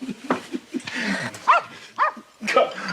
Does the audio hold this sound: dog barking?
yes